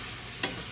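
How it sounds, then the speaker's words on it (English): Maple syrup hits a hot pan with coconut flakes and sizzles quietly, a faint continuous hiss broken by one brief stirring scrape midway. "Now the pan's hot, so you're gonna see the maple syrup sizzle up."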